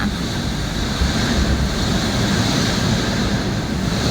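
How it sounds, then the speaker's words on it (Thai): Strong, steady wind roars through banana trees during a rainy, blustery day on a farm in Thailand, a dense continuous rush with gusts and no voices. "ลมแรงด้วยอ่ะ"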